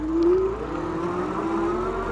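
A RevR V5 electric bike ridden outdoors, its motor giving a steady close whine that rises slightly in pitch, over a low rumble of wind and rolling noise.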